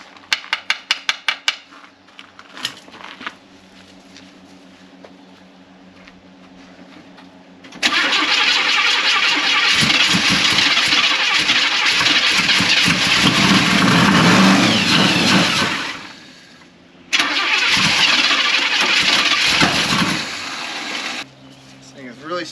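A 1972 Chevy Suburban that has sat unused struggles to start: a few cranking attempts and sputters, then the engine catches and roars unevenly near the microphone, dips, and revs again, with people talking.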